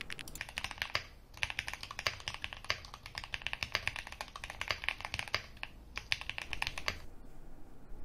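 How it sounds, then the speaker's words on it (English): Two-finger typing on a computer keyboard, close and crisp key clicks in quick irregular bursts with brief pauses, then stopping near the end. "I used two fingers and thumbs and had to look down at the keyboard every 2 seconds"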